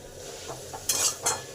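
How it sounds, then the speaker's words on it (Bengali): Cauliflower leaves stirred and fried in a pan with sugar and seasoning, giving a low sizzle with a few scraping stirs of a utensil against the pan, two louder strokes near the end, no voices. "এবারে সমস্ত কিছু ভালো করে নেড়ে ভাজা ভাজা করে নেব"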